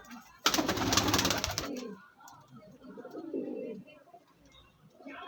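A flock of white-eyed pigeons gives soft, low cooing in a quiet space, after a loud, brief burst of wing flutter near the start.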